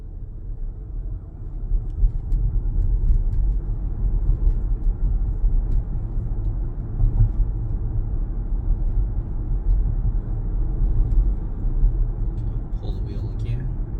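A 2022 Long Range Tesla Model Y driving itself on Full Self Driving Beta gives a steady low road rumble and tire hum from inside the cabin, constant and moderately loud throughout.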